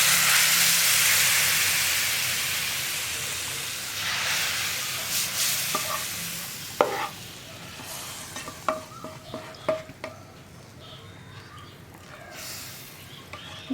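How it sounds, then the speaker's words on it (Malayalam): Brinjal sambar simmers in a pot on a stove as spice powder goes in, giving a steady hiss that fades after the first few seconds, followed by a few soft clinks and stirring taps of a spoon against the pot. "ഇനി നമുക്കിത് തിളച്ചുകൊണ്ടിരിക്കുന്ന സാമ്പാറിലേക്ക് ചേർക്കാം."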